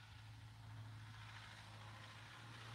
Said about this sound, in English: That truck sounds like it needs oil.